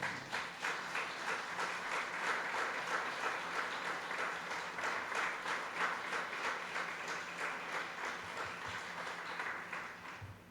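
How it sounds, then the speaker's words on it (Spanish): Church congregation applauding the Lord during a sermon, a steady wash of many hands clapping that stays even and sustained throughout, without speech. "Dale un aplauso al Señor."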